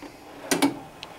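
A tool-chest drawer holding wrenches slides open with two quick metallic clacks close by, followed a moment later by a faint light tick; no one talks.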